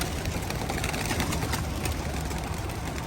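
A flurry of wingbeats and fluttering as a group of racing pigeons is released for a 51-mile race, steady rushing noise throughout with faint cooing beneath.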